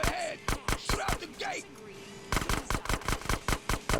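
Gunfire in GTA San Andreas: loud, rapid bursts of shots in a quick, even rhythm, a short lull with a faint tone in the middle, then another fast string of shots.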